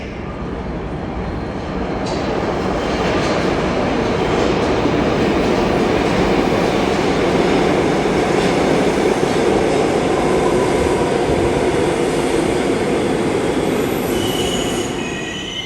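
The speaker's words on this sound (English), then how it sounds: "There is a downtown local 1 train to South Ferry approaching the station." A New York City subway train, a downtown 1 local, rolls into the station with loud, sustained wheel squeal and rumbling, steady throughout, no talking.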